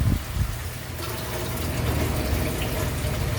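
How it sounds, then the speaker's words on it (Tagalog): Water poured into a pan of tokwa't baboy (tofu and pork) in soy sauce, a short splash followed by a steady gushing pour close by. "lalagyan natin yan ng kaunting tubig para medyo may sauce"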